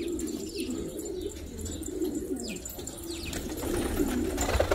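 Pigeons coo softly and repeatedly nearby in a quiet loft, with faint chirps over low background noise.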